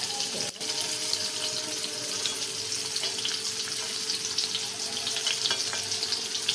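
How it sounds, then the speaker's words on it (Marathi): Stuffed bitter gourds fry on a hot griddle, giving a steady, close, even sizzle that holds for the whole stretch, with one brief sharp knock near the start and small crackles scattered throughout. "किती छान आपले कारले मस्त फ्राय होत आहे"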